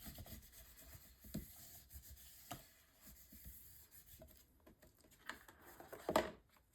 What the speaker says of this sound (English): And then I'll use my bone folder here to burnish this down.